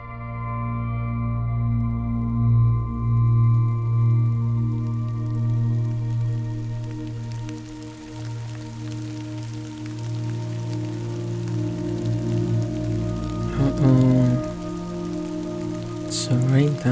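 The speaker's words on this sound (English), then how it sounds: "It's rain time." Steady rain falls in Death Stranding, a continuous wash of drops over a low game soundtrack drone, with brief louder bursts near the end.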